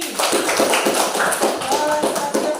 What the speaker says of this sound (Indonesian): Tepuk tangan untuk Suci